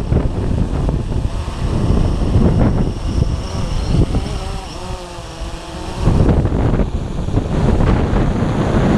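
Strong outdoor wind of about 15 to 20 mph buffets the microphone continuously with loud roaring gusts, a low rumble persisting throughout while flags fly nearby.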